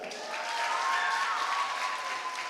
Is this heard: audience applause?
yes